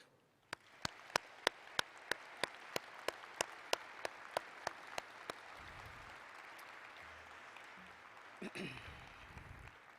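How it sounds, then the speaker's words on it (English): At a college commencement ceremony, an audience gives a round of applause: one nearby pair of hands claps in a slow, even rhythm while softer clapping spreads through the hall, fading as a voice begins. "please join me in a round of applause of appreciation and gratitude for their work"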